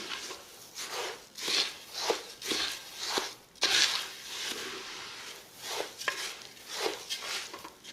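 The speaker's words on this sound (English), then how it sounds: "Combine your rice into the oil, and we are going to be here until our rice is nice and golden." Rice being stirred into hot oil in a clay pot, with repeated scraping and clinking strokes of a utensil against the pot at an uneven rhythm, close and moderately loud, over a low sizzle.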